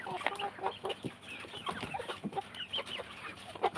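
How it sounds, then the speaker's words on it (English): Egg-laying hens clucking close by, a busy overlapping chorus of short throaty clucks and murmurs in an irregular rhythm, fairly loud, with no talking. "They are egg laying hens."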